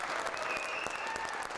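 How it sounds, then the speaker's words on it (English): A crowd watching a live stream of the new governor's ceremony in Kotzebue breaks into loud, sustained applause and cheering. The clapping is dense and continuous, with a whistle-like tone rising above it. "The crowd, glued to a live stream from Kotzebue, cheered as the First Lady made her way to the stage."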